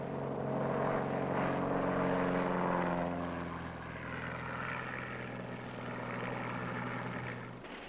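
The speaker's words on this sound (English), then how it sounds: "pontoon planes make use of lakes and rivers for takeoffs and landings." A pontoon floatplane's propeller engine drones loud and steady, with a deep harmonic hum that eases slightly in level partway through and holds as a continuous roar.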